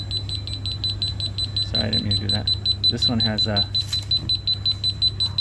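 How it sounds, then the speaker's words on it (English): A store security alarm beeps in a rapid, steady high-pitched pulse throughout, fairly loud and close, while someone talks over it partway through. "I've set off the alarm"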